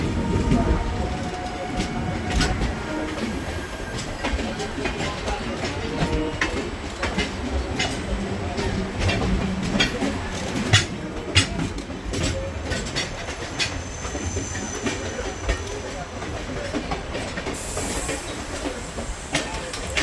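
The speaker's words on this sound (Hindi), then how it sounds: "ये भी आज ऑन टाइम ही चल रही है ट्रेन।" The Shri Ganga Nagar–Ambala Cantt Intercity Express runs on rails, heard from inside with a steady rumble and repeated clickety-clack of wheels over joints, while someone speaks at times.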